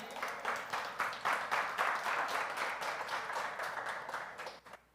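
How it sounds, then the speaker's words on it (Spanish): A church congregation claps during a sermon, a steady, fairly fast rhythm of hand claps that keeps going for about five seconds and then stops abruptly, with no talking over it. "Eso merece un aplauso."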